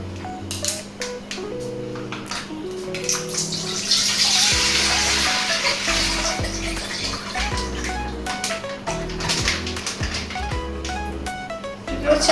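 Milk pours into a pot, a continuous splashing liquid stream with gurgling, close and fairly loud, with some clinks and knocks around it.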